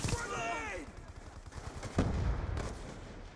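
Gunfire in a Black Ops 2 Search and Destroy match: a burst of rapid shots at the start, then a louder blast near the two-second mark, with a voice talking over the game sounds.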